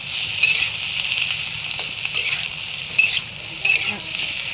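Chillies and cumin frying in a pan for a thin rohu fish curry, a loud, bright, continuous crackling sizzle up close with occasional stirring scrapes and no talking.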